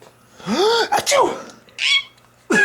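A voice mimics a sneeze with a rising-and-falling 'achoo' call, followed by short excited squeaks and laughter from a young child, all close and fairly loud.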